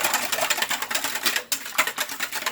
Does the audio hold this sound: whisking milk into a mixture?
yes